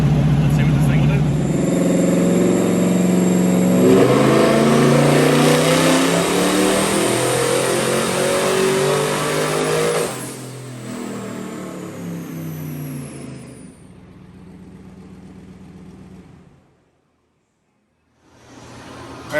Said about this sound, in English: so I'm just gonna do our base pull, see where we're at